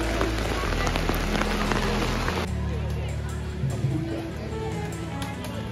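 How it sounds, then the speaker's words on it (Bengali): A downpour at the Sonajhuri open-air market in Shantiniketan hisses loudly at first, then eases to a softer, steady patter of drops on nearby surfaces, with faint voices in the background. "মুষলধারে বৃষ্টি পড়ছে, মুষলধারে বৃষ্টি।"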